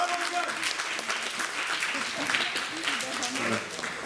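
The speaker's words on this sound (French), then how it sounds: "Là, tu peux applaudir là-dessus." Applause from a comedy show audience, moderately loud and ragged, with a voice talking over the clapping at times.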